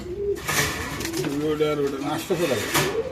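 Caged pigeons at a market pen give soft, repeated throaty coos close by, mixed with a voice speaking over them.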